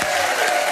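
A short burst of crowd applause for a champion at a summer event, dense clapping at moderate volume with no voices on top.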